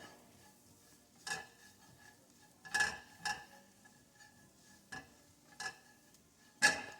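A utensil scraping the bottom of a pan of onions and flour, several separate short scrapes and clinks at uneven intervals over a quiet background, close by, no talking.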